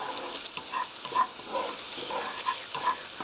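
Eggs gently stirred and scrambled in a frying pan with a utensil, a soft sizzle underneath and light scraping strokes coming in a steady, unhurried rhythm, close and fairly quiet with no talking.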